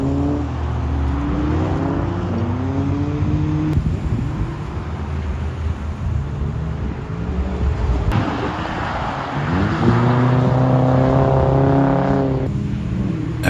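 A BMW E36 drift car pushed hard on track, its engine howling loud and close with rising and falling revs, sharp shifts and steady wind rush across the run, no voices.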